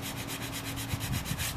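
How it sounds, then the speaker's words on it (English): An 80-grit sanding disc on a small pad strips old finish from teak in quick, even back-and-forth strokes, a close, steady rasping rhythm with no voices. "we just clean it up with a trusty little sanding pad with a disc on it."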